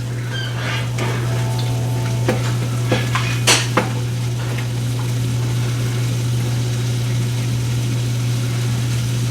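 Eggs for fried rice cook in a pan with a soft sizzle under a steady low hum, punctuated by several sharp clinks and scrapes of utensils near the start.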